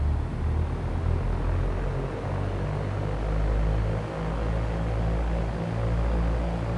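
Simulated light aircraft engine in X-Plane 11 runs up on the ground for an RPM check, a low steady rumbling drone with slight surges, moderately quiet and continuous with no speech.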